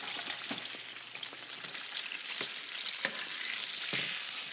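Flounder fries in hot grease with a steady, dense sizzle and crackle throughout, close and loud, with occasional soft pops and shifts as the pieces move.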